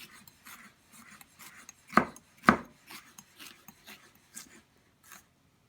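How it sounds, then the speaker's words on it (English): A knife julienning bell peppers into matchstick strips on a cutting board, a quiet run of soft, steady slicing strokes with two sharper, louder cuts near the middle. "now what I'm going to do is actually julienne"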